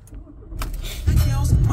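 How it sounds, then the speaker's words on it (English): An Audi Q3 quattro Black Edition starts up: a brief whir of the starter followed by the engine catching into a low, steady rumble close by. "Let's fire the car up"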